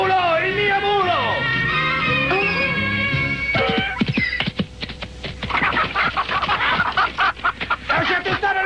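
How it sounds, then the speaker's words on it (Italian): Chickens cluck and squawk in a busy, agitated burst, close and loud, mixed with honking fowl cries, scuffling and shouting voices in an animated scene. "Lasciate stare le mie galline!"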